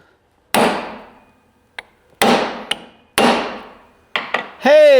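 A hammer strikes a pipe piece to punch it through washers for a restored 1916 bench vise: four heavy, ringing metal blows with lighter taps between them, ending in a sustained metallic ring.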